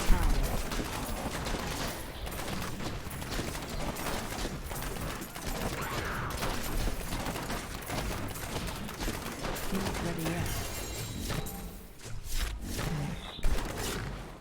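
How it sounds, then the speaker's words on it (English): Explosions and rapid combat impacts in Diablo 3 on PC, a dense barrage of sharp bursts and clattering hits that runs continuously, with a few louder blasts near the end. "there is something that's gonna explode"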